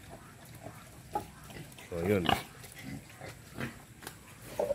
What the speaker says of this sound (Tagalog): Naglalakad yung mga biik.